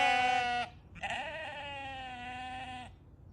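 A freshly shorn sheep bleats twice nearby, first a short call and then a longer, wavering one, alone over faint background noise.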